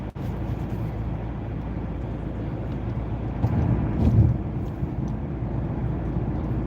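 A car cruising at about 45 on an ordinary road, throttle barely pressed, before an expressway on-ramp: a steady, even low rumble of engine and road noise from inside the cabin, continuous throughout with a brief slight swell.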